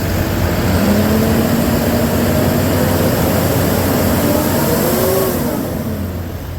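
A 2011 Freightliner M2 Business Class forestry bucket truck with a 60 ft boom, its engine exhaust revving loud and close in rising sweeps, then settling and fading slightly at the end.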